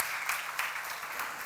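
A church congregation claps during a sermon at a seminar, a steady wash of hand claps with a few sharper bursts, sustained and moderately loud throughout.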